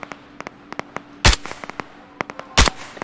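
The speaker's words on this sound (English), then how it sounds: "It's so satisfying though, killing with the sniper." Two sharp, loud sniper rifle shots in the game Operation Harsh Doorstop, spaced about a second apart, each ringing out briefly amid a scatter of quieter clicks and distant gunfire pops.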